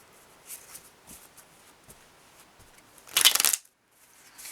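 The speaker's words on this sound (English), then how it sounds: "And I think I'll shuffle them a couple more." Soft scattered card rustles give way to one loud riffle of shuffling cards lasting about half a second, then brief silence.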